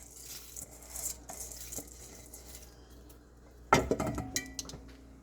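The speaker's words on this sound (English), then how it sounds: "So this is the rice added to the peas. So always use a fork to stir it in." A fork stirring jasmine rice into peas in a metal pot, with light scraping and clinking that swells into a louder burst of clatter near the end, close by.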